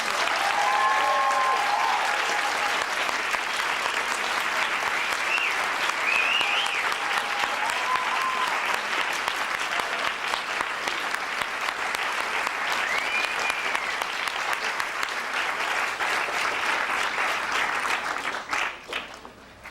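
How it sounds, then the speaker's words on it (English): Sustained, loud applause from a large audience, dense clapping continuing steadily for about twenty seconds before tapering off at the very end. "a phenomenal round of applause"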